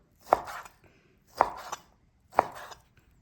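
A knife cuts beef into cubes on a board: three crisp, evenly spaced chops, each a sharp thud with a brief scrape, with quiet pauses between them.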